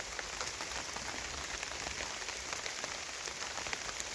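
Steady rain pattering in a forest garden in September, a soft, even hiss of drops falling continuously without pauses, faint and close.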